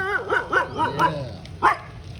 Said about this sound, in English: They're barking at my crocodiles.